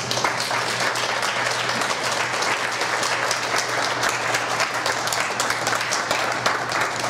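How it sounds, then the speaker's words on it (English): A large audience applauds at a talk on video game music, a steady, dense wash of many hands clapping that lasts throughout at a consistent loud level, with no voices over it. "Let's give Will another round of applause"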